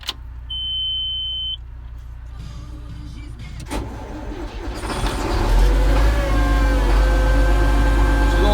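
A cold John Deere tractor engine cranks and catches after a beep and a click, then settles into a loud, steady idle that grows stronger toward the end.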